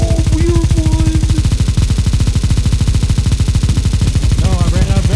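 Rapid automatic gunfire from Counter-Strike pounds out continuously at a fast, steady rate, very loud and close, with a voice heard faintly under the shots at the start and near the end.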